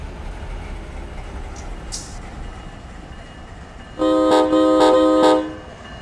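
Locomotive horn in the Run 8 train simulator game sounds in three loud, closely spaced blasts of a harmonic multi-chime tone, after a stretch of low rumble and brief faint noises.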